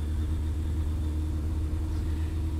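A Suzuki RF900 motorcycle engine running at night, a steady low rumble of idle from close by with no other sounds.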